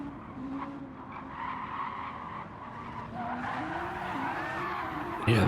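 A race car in Gran Turismo 7 skids off the track at Monza with a long tire squeal over a steady engine drone, growing louder near the end.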